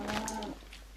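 A cow in the video game Minecraft gives a single short, tonal low, lasting about half a second and fairly close, then it falls quiet.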